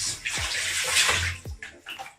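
Water pours into a bathtub being filled for a milk bath, a bright rushing splash that swells and dips, with a few sloshing surges, close by and without talk.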